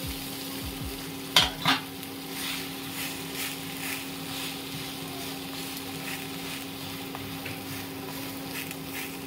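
Bread and egg frying in a covered pan, a steady soft sizzle running throughout, with two sharp clinks of a utensil or lid near the start.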